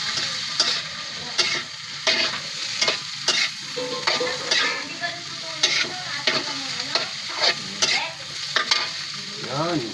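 Alugbati being stirred and fried in a pan with chili, a steady sizzle broken by repeated scraping strokes of the utensil, close and fairly loud, with no talking.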